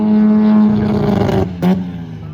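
Drag racing cars at a racetrack sit staged at the line, a loud steady engine drone with harmonic tones that swells and then breaks into a brief louder surge near the end.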